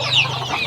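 Chickens clucking close by in a farm coop during feeding, a steady low burble of fowl calls with a brief higher squawk, no talking.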